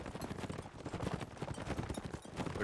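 Horse archer hooves clip-clopping in a competitive online video game match, a rapid continuous clatter of hoofbeats, fairly loud and steady throughout with a busy game soundscape behind.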